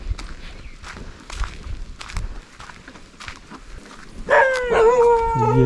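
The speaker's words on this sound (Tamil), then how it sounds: "ஐயோ, 2 பக்கமும் நாய் ரவுண்டு கட்டுது நம்மளை." Dogs barking and howling near people walking in a dense forest, at first scattered footsteps and rustling, then loud close barks and drawn-out howls near the end.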